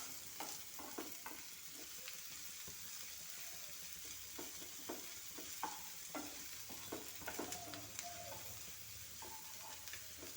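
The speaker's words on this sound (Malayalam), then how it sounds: "അതിലേക്ക് തന്നെ ക്യാരറ്റ് ഇട്ട്, അതിലേക്ക് ബീൻസ് ഇട്ട്, നമ്മൾ ഫ്ലെയിം കൂട്ടി തന്നെയാണ് വെച്ചിരിക്കുന്നത്" Carrots and beans frying and being stirred in a pan over a high flame, with a steady sizzle and repeated clinks and scrapes of a spoon close by.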